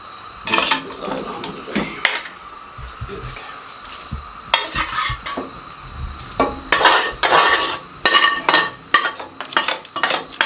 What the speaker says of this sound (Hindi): अब हम इसको उठाएंगे चिकन को और अच्छे तरीके से साफ़ करके इसके अंदर इस तरीके से डाल देंगे